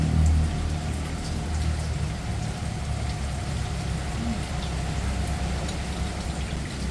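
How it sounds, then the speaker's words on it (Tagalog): Steady rain pours down in a dense, hissing wash, with a low rumble underneath and no pause throughout. "Wala pong tigil ang ulan."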